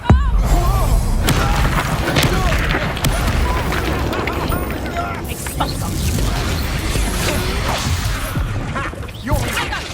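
Incendio fire spell blasts in the Hogwarts Legacy video game, loud booms, whooshes and impacts piling up into a dense, continuous battle roar with voices under the effects.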